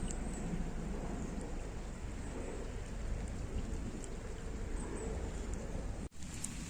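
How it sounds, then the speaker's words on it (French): Heavy rain pours down on a pond in a dense, constant hiss, close and loud, with a brief dropout near the end. "il pleut vraiment beaucoup sur l'étang. Il pleut à fond."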